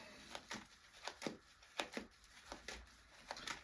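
Tarot cards are shuffled in a quick series of crisp, riffling bursts, close by and fairly quiet, with short pauses between them.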